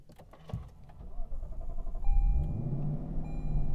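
A few clicks and rattles, then a Lexus LC 500 engine cranks and fires up midway, settling into a loud, deep, steady idle rumble.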